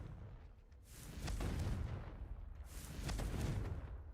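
Booming blasts from a video game fire-blasting spell, two heavy rumbling explosions a couple of seconds apart, each swelling and then fading, loud and close with no talk over them.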